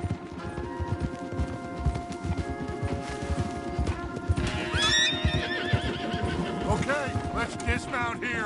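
Horses in the video game Red Dead Redemption 2 whinny and snort loudly over a steady clip-clop of hooves, with people talking underneath.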